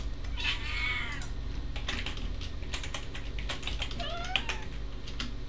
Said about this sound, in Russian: Она сказала мяу.